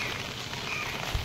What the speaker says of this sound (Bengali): দেখো বৃষ্টি পড়ছে, দেখো বৃষ্টি হচ্ছে